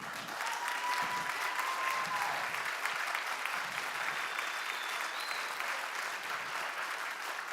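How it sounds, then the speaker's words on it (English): Steady applause from an audience at a live fundraising event, honoring donors who gave that night; dense, even clapping fills the whole stretch at a moderate level, with faint whistles or tones drifting through. "let's do one big round of applause really quick for everyone that's given tonight"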